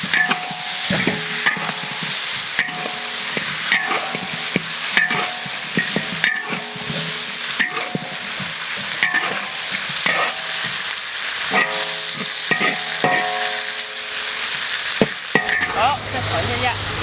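Braised oxtail with oyster sauce, soy sauce and cooking wine is stir-fried in a hot wok, with loud continuous sizzling and repeated scraping and clanking of the spatula against the pan in an irregular rhythm.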